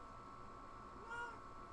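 A cat gives a single short meow at moderate distance, faint over a steady electronic hum in a quiet room at home.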